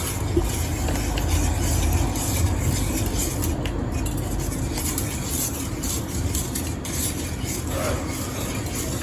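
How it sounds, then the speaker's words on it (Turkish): Noodles and boiled green lentils sizzle and hiss in oil as they are stir-fried, a steady dense crackle running unbroken throughout with occasional faint scraping. "Ama önce bunları böyle koyulaşıncaya kadar kavuracağız."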